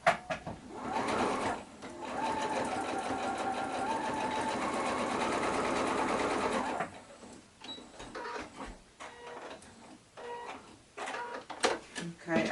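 A sewing machine runs in a steady loud burst of stitching as it sews shirt-scrap fabric pieces into a quilted pillow cover, followed by shorter intermittent runs and handling noises.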